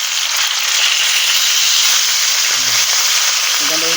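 Fish frying in a hot pan gives a steady, loud broadband sizzle and hiss that runs unbroken throughout, with faint low clinks or voice fragments near the end.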